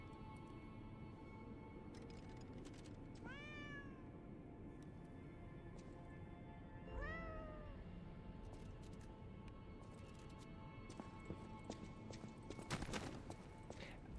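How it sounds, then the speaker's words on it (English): A cat meows twice in the video game Lies of P, short rising calls spaced a few seconds apart over a constant low in-game ambience with faint clicks. "I'm just going to keep bothering this cat."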